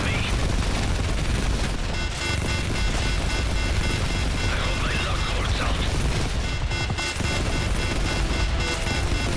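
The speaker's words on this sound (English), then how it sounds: "Where are all these shots coming from?" Heavy, continuous gunfire in a Paris street battle in the video game Modern Warfare 3. Dense rattling fusillades and mechanical clatter continue without letup, loud and close.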